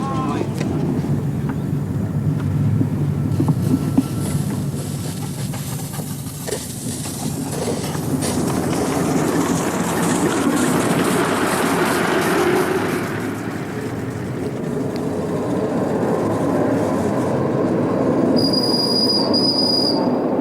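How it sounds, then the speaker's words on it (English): An old Australian steam train runs past close by in a steady, heavy rumble of wheels and engine. Metallic squeals and clatter rise over the roar, and someone talks over the top of it. "for those folks who remember the steam trains, then this old monster will bring back a lot of good memories"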